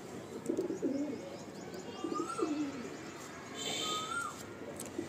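Mundi Sada pigeons cooing softly in a breeding loft, several low rolling coos with faint chirps over a hissy room background, moderately distant and unaccompanied by talk.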